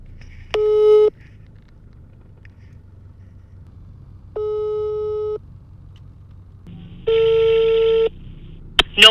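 Three steady telephone ringback tones sound during an unanswered call, each lasting about a second with long silent gaps between them, over a faint low hum and a click at the end.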